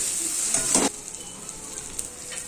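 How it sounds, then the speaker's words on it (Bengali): A spatula stirs ridge gourd paste with shrimp in a frying pan, a soft steady sizzle with a brief scraping stir near the start, fairly quiet and without talk. "এইভাবে ঝিঙে বাটাটাকে খুন্তি দিয়ে নাড়াচাড়া করে একদম শুকনো শুকনো"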